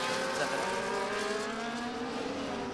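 Race cars in a sim racing game at Silverstone scream past with high, rising engine whine, and several cars are close together at full throttle, loud and continuous.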